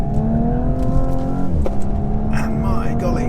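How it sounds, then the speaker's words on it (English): A 2017 Audi S4 engine and exhaust pull hard under acceleration, a close rising harmonic growl that dips at a gear change, with someone talking over it. "you get a lovely tone from the engine"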